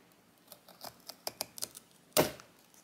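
A wooden candle wick being cut, giving a run of small, crisp snips and ticks followed by one louder sharp crack as the blade goes through, close and alone with no talk.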